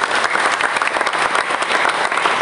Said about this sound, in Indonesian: Tepuk tangan dulu untuk adik-adik semuanya.